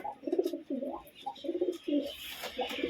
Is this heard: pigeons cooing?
yes